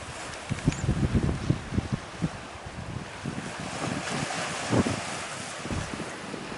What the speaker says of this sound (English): listen to that beautiful sound of the sea